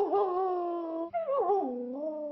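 A Samoyed dog howls close by in a high-pitched, singing woo that bends and wavers through two sustained phrases with no other sound.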